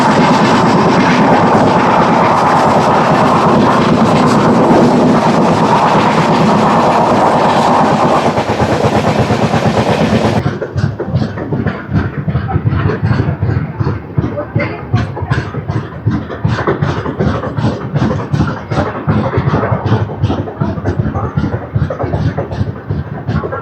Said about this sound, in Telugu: హజరత్ నిజాముద్దీన్ నుంచి సికింద్రాబాద్ వరకు వెళ్ళే దురంతో ఎక్స్ప్రెస్